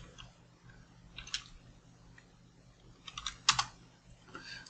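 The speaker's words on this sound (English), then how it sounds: "and you can type" Typing on a computer keyboard while working in Figma, quiet scattered key clicks with a few louder bursts of rapid strokes, heard alone without talk.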